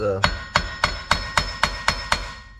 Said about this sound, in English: I'm gonna take a hammer and bump on this